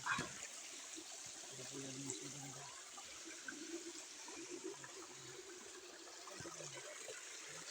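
Steady rushing flow of a creek fills the scene, a continuous close wash of running water with a faint low rumble beneath; no clear talk over it.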